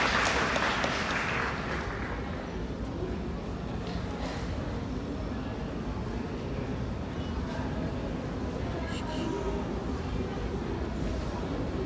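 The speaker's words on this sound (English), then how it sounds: "Let's greet him with a warm applause." Broadband crowd applause fills a large hall to welcome a senator from Lofa County, Liberia, at an event in Osaka, Japan, holding steady and dense throughout with no voices over it.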